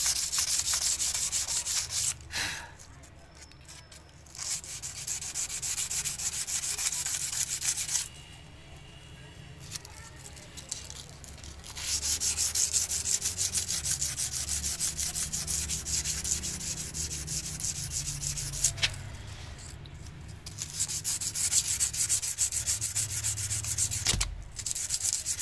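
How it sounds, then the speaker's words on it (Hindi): Sandpaper is rubbed back and forth over a rusty wheel in long, steady scraping strokes. The loud gritty rasp stops briefly several times between passes, and faint voices sit in the background. "जैसे एक साइड ख़त्म होगी रेगमार की, दूसरी साइड लगा लेंगे आप। ऐसे ही आपने रगड़ना है इसको।"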